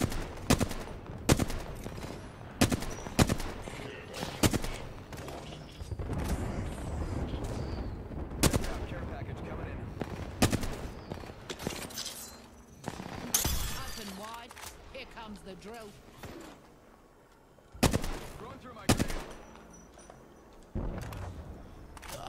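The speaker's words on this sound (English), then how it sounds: "I'm taking fire." Bursts of video-game gunfire crack out in uneven volleys, sharp shots and rapid strings mixed with impacts and breaking sounds, while players talk over the action.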